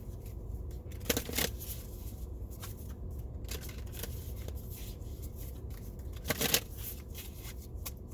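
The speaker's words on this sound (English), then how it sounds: "And we're just going to shuffle and pull some cards," A deck of oracle cards being shuffled by hand, soft continuous riffling and rubbing with a few louder flicks, close and alone.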